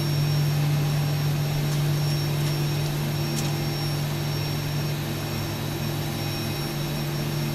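Boeing 737 jet engines in a flight simulator game spool up at takeoff thrust, a loud steady roar with a strong low hum and high whine, constant throughout and free of talk.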